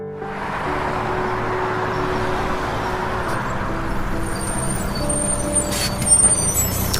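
A bus pulls in to its stop in a staged drama scene, with a steady low engine rumble throughout and faint hissing air brake releases near the end; no voices.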